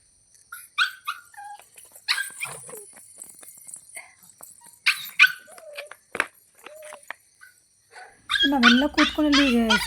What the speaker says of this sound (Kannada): ನಾಯಿ ಕೂಡ ಕೂಗ್ತಾ ಉಂಟು